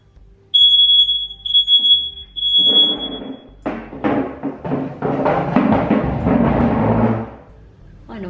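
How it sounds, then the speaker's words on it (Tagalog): A home smoke alarm going off in a kitchen, a piercing high electronic beep sounding in repeated long bursts at first, then fading under clattering and someone talking nearby. "Yung fire alarm namin, nag-set off siya."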